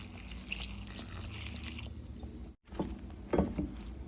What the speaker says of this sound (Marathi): अर्धा ग्लास पाणी घालूया